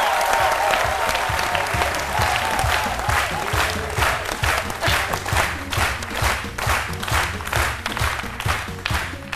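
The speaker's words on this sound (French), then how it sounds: "que je vous demande d'applaudir" A studio audience at a midday television show applauds an arriving guest, dense clapping that starts full and then thins into a rhythmic, pulsing clap toward the end, with no one talking.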